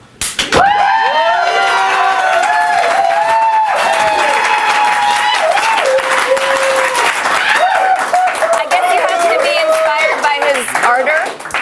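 Studio audience on a TV comedy show bursts into loud, sustained applause with clapping and scattered whoops and cheering voices, holding strong for about ten seconds before tapering off.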